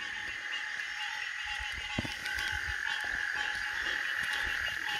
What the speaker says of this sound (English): There's a bullfrog.